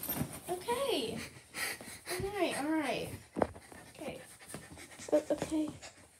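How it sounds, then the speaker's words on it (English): A dog pants and sniffs close by amid a household scene with a child nearby, its breathy rhythmic panting running under frequent speech from a child and an adult. "No, stay back, doggy."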